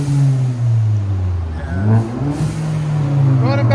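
A 2020 Ford Fusion with the 1.5L EcoBoost engine and louder aftermarket exhaust, revving with a loud, steady droning exhaust tone that rises and falls in pitch, recorded up close.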